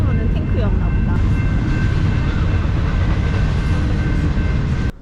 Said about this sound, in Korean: 길은 이쁜데, 기차 때문에 시끄러서.